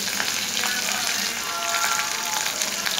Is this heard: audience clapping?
no